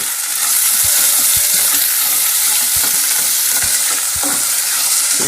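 Onion sizzles in a pan for tinola with ginger, a loud continuous frying hiss punctuated by the scrape and clack of stirring, close and without talk.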